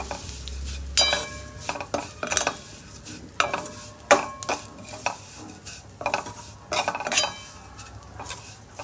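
Vermicelli frying in ghee for sheviyanchi kheer is stirred in a pan, with repeated utensil scrapes and clinks over a faint sizzle, close and alone.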